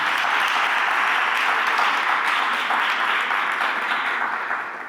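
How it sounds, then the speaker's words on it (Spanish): A church congregation claps together in a loud, dense, steady burst of applause that fills the space for several seconds and begins to taper at the end. "Un aplauso para el Señor."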